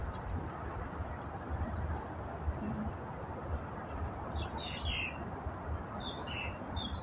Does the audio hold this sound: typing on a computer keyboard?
no